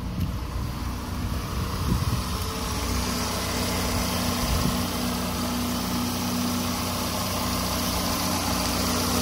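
An original Oldsmobile car engine, fitted in an American car, idles steadily nearby, a smooth continuous hum with faint wind noise and no talking.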